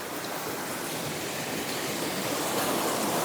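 Waterfall in Strathconon, Scottish Highlands, a steady broadband roar of rushing water, close and continuous throughout, with no voices.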